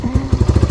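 A motorcycle engine idling up close, its short loud thumping pulses coming in a steady rapid rhythm, alone with no talk.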